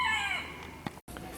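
Chickens on an off-grid homestead, a rooster crowing loudly and alone at the start with a drawn-out call fading into quieter clucks, followed by a brief sharp knock and a moment of silence.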